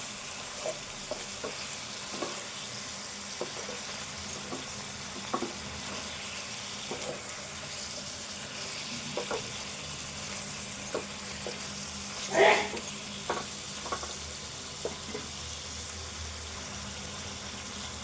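Chopped tomato stirred into a sizzling brinjal chicken curry, a steady low frying hiss broken by scattered spoon scrapes and clinks, one louder clatter near the middle, no talking.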